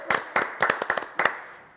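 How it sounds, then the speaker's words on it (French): A handful of close, sharp hand claps come in small bursts from a few people in a studio, uneven and brief, fading to quiet at the end. "Ah là là, on l'applaudit"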